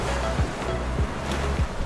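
Sea waves wash onto a beach in a soft, continuous rush with light wind, faint and steady over a moment.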